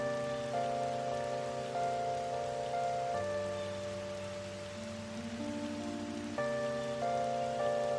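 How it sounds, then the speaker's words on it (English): Rain falling during the rainy season in the Persona 5 video game, a soft continuous patter beneath a gentle melodic music track with sustained tones, steady and calm with no talking. "This quadruples the comfiness of the rainy season in Persona 5."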